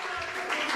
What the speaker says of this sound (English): A round of applause for Sion